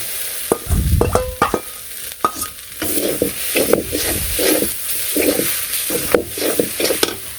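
Leafy greens and fish are stir-fried in a pan as a rice-flour paste is added, with loud scraping spatula strokes over a continuous sizzle in an uneven rhythm.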